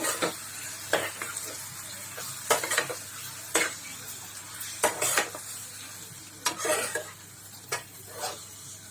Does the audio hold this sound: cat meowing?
no